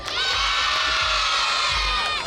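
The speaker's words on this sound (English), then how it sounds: "A big round of applause for Hamza and Nuria" Loud crowd at a marathon event in Islamabad cheering and shouting, with high children's voices and whoops forming a continuous roar, close and sustained for the whole stretch.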